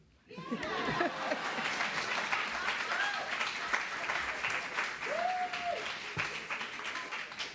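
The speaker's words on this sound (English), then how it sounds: "let's give applause to us, too" A church congregation at a Sunday Passover service claps in a sustained, fairly quiet round of applause, with voices speaking over the clapping.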